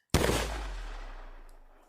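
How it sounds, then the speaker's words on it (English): A single sharp gunshot rings out on a still night near a house in an audio drama, loud and close, followed by a long fading echo with no voices. "A gunshot!"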